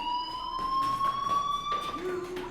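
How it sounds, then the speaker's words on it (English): A school fire alarm rings in the video game Life is Strange, a steady high electronic tone that holds throughout. Indistinct voices and other noise sit underneath it. "Hey, do you hear that fire alarm?"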